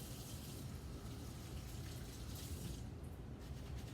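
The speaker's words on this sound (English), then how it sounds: "we want to go ahead and rinse them under running water." Running tap water flows steadily while hands are rinsed beneath it, a continuous soft splashing rush with slight shifts in tone as the stream is interrupted.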